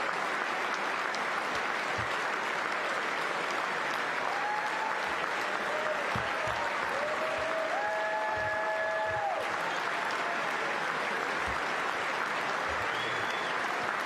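A large crowd keeps up dense, continuous applause that runs unbroken for the whole stretch at an even level, with a few faint tonal calls drifting over the clapping.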